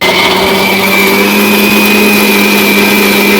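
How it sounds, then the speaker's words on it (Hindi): A mixer grinder grinds chutney, running loud and steady, a continuous high-pitched motor whine with grinding noise throughout, no voices. "और अब पीसती हूँ मिक्सी में।"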